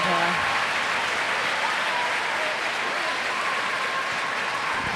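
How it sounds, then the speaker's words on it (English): A netball crowd at the Nations Cup final between Kenya and Singapore applauds an injured player off court, a dense, sustained wash of clapping at steady volume, with a brief voice at the start. "the crowd claps her off as her teammates"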